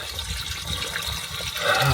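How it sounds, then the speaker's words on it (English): Water drains out of a hole with a steady rushing, gurgling flow, close and continuous, growing slightly louder toward the end, with no talk. "So now I'm going to let all that water drain out so I can find something to plug the hole with."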